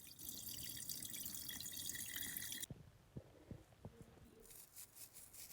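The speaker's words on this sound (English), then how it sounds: "Start by rinsing the rice" Rice being rinsed in water while making chicken congee: running tap water pours steadily at first, then cuts off, leaving quiet drips, sloshing and small knocks from the rinsing.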